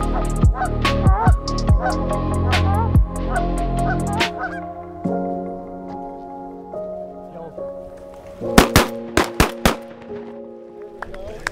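Shotgun blasts ring out during a goose hunt, several sharp reports early and another rapid cluster near the end, with honking geese and people talking between the shots.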